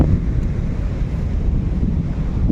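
Sea waves and strong wind at the Veraval seashore, with boats moored nearby, make a loud, continuous low rumble and rush with heavy wind buffeting the microphone and no voices.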